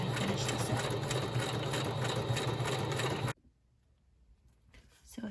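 A sewing machine runs steadily for about three seconds as it stitches through the pages of a junk journal, giving a loud, continuous mechanical whir. It stops abruptly and leaves near silence, then a brief rustle comes at the end.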